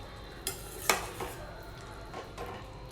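Tomatoes cooking in a pan are stirred with a utensil, giving several distinct scraping clatters against the pan over a soft, quiet sizzle.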